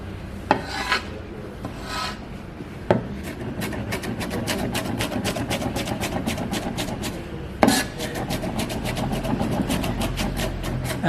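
A big knife chops lahmacun ingredients on a board, with a rapid, steady run of close, crisp cuts and a few heavier thuds in between.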